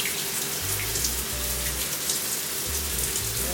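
Water being added to aloe butter gel on hair, a soft continuous splashing patter like a running tap, steady and close for a few seconds.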